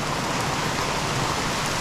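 Rain falls over a lake during a fishing trip, a steady, dense hiss of drops close by with no voices.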